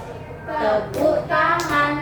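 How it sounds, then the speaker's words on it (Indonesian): A young child claps hands a few times in quick bursts, close by, with a voice speaking during a home therapy session. "Tepuk tangan."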